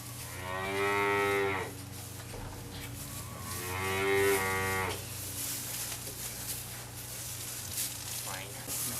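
Cattle on a farm give two long, loud moos a few seconds apart over a steady, hissing background noise, with a fainter call near the end.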